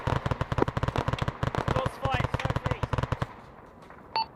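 Automatic gunfire rattles in rapid bursts during an Arma 3 assault on a fortified base, loud and close, with a brief pause and a final short electronic tone as it dies away; radio-style voices sit underneath.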